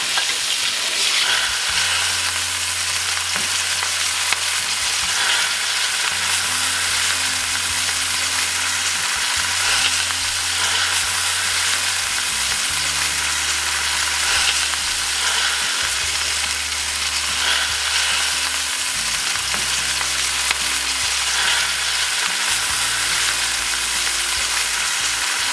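Steaks sizzling and basted with butter in a cast iron pan, a loud, steady frying hiss that runs throughout, close up, with a low background tone beneath and no talking.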